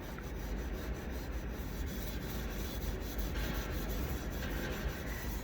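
Steady, continuous rubbing of a fine abrasive over wooden stars, a dry scratchy sanding texture with slight rhythmic strokes and no talking.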